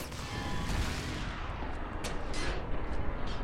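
Gunfire in the shooter game F.E.A.R. 3 comes as dense, booming bursts that run without a break for a few seconds. It sounds loud and harsh, with no talking over it.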